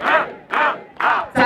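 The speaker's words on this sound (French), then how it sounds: "Applaudissons!" A church congregation roars and cheers in four loud surges, each swelling then fading, with no clear applause beneath.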